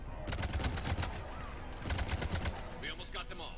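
Gunfire in the sci-fi shooter Mass Effect 3: two dense, rattling automatic bursts, loud and close, with voices and battle noise mixed in underneath.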